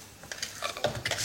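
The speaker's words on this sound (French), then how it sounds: "faire la vaisselle le soir, honnêtement, c'est pas un truc dont je raffole" Dishes, pots and cutlery being washed at home in the evening make close, irregular clinks and clatters, with light knocks of metal and crockery in quick succession.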